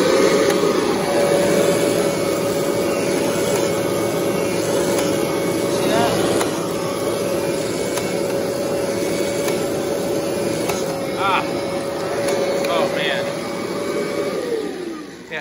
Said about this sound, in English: so I'm gonna try my best to vacuum with it, although it's gonna be kind of disastrous